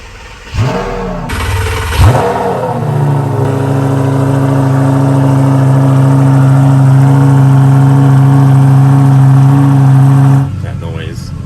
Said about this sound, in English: All right, let's hear this cold start.